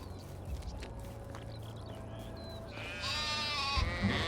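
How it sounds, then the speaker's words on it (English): Sheep bleating inside the medieval survival game Medieval Dynasty, a few short bleats over a steady ambient outdoor bed, louder toward the end, with no voices. "Dear me, sheep, you should be going to sleep."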